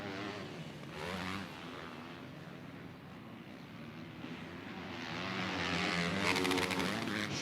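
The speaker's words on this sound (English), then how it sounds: "Sean Collier here today on that 1999 KX500 two-stroke" A 1999 Kawasaki KX500 two-stroke motocross bike races on track, its engine droning at a distance and swelling louder toward the end.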